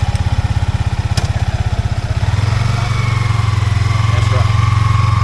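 A Yamaha XSR 155 motorcycle with its stock muffler, idling close by with a steady, thumping, even beat that thickens slightly midway, with some talk faintly present.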